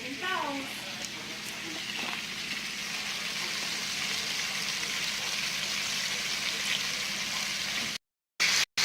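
Bacon frying in a pan, a steady soft sizzle and crackle held for several seconds, with a voice talking briefly at the start and a short dropout near the end.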